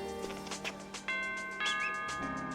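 A doorbell chime rings with sustained bell-like tones layered over a faint background, the ringing notes shifting pitch across a couple of seconds.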